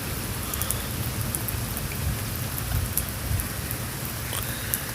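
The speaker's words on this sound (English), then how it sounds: "Now it's raining harder. You can kind of tell that it's raining." Heavy rain pours down steadily on a rainy day, a dense continuous hiss and patter with no gaps for the full stretch and no voices.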